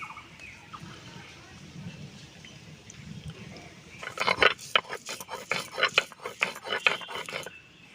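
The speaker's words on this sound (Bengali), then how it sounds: "ছোলার ডালটা আমি বেটে নেব" Soaked chana dal ground on a grinding stone: after a quiet start, rhythmic rasping strokes of stone on stone scrape back and forth, close and clear, about a dozen strokes in steady succession.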